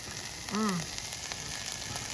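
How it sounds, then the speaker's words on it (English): A quesadilla with chili, two kinds of cheese and protein sizzling in a pan just after being flipped, a steady soft frying hiss with a brief squeak partway through. "Listen to that sizzle."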